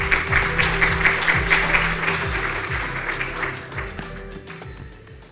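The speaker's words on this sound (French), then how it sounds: "On l'applaudit." Audience applause at a conference opening, a dense wash of clapping from a crowd that stays steady for several seconds before thinning and fading toward the end.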